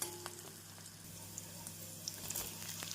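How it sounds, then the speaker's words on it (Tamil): Chopped brinjal frying with sautéed onion and garlic in a pan over medium heat gives a steady, close sizzle with light crackles and pops and no talk. "இந்த அளவு வெங்காயம் பூண்டு வதங்கவும் நாம் நறுக்கிய கத்திரிக்காயை சேர்த்து விடலாம்."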